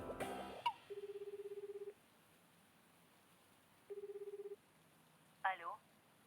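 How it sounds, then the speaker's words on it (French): Telephone call being placed: a quick burst of keypad beeps, then two spells of loud, steady ringing tones separated by a pause, and a voice answering at the end. "Vous voulez que je compose le numéro pour vous?"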